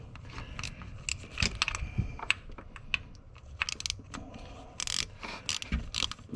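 A hand tool working the bolts loose on a car thermostat housing during an overheating repair, a close series of sharp ratcheting clicks and metallic creaks in irregular bursts over a low background rumble, no talking.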